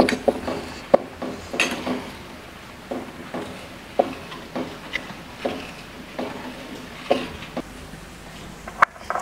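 Semolina and sugar stirred in a pan make soft scraping rubs punctuated by a series of light clinks and taps of the utensil against the pan, at a steady, unhurried pace, close by with no talking.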